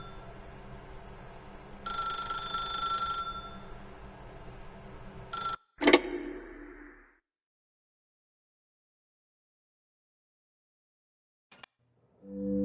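Telephone ringing in The Stanley Parable video game, a bright electronic ring tone sounding in a short burst, then a clunk and a few brief blips before silence and a faint later sound.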